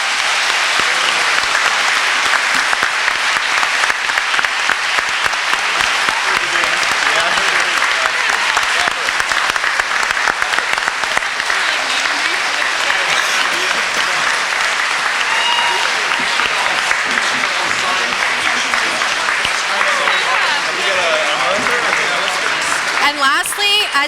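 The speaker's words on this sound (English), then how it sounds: "let's give them all a nice big round of applause" An audience at a candidates' debate applauds, sustained and loud clapping from a full room that holds steady for over twenty seconds without letting up.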